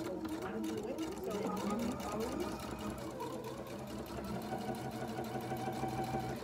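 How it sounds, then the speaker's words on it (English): A sewing machine fitted with a walking foot and piping foot stitches piping along plastic boning for a car trash bag. It runs as a steady, close mechanical hum for the whole stretch, with no pauses. "I'm just going to hold that in place and sew it in place."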